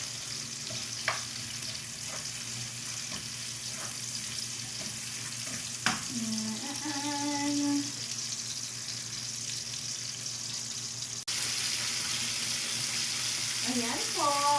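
Onions frying in a pan for squid and squash in coconut milk, a steady close sizzle with occasional stirring clatter, while a voice speaks briefly partway through.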